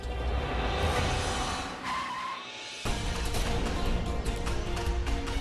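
A car turns sharply with tires skidding and squealing against the road surface, loud and close, the screech dropping away briefly before a harsh burst of rumbling friction resumes.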